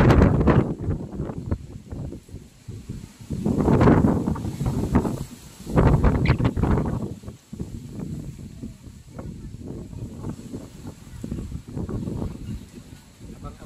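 Strong gusts after Super Typhoon Rolly buffet the microphone in loud, surging bursts that rise and fall every few seconds, with rain and rustling debris underneath and no talk.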